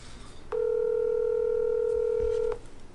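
A phone call from an Apple Watch Series 4 rings out as one steady electronic tone lasting about two seconds, loud and close, then stops.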